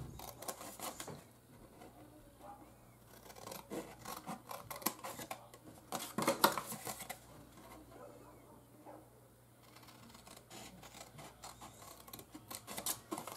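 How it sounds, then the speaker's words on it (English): Scissors snipping along score marks on cardstock while folding a small gift box, a run of quiet, close crisp cuts and rasping rubs coming in uneven bursts, with a louder cluster in the middle. "take my scissors and we're going to cut on these score marks"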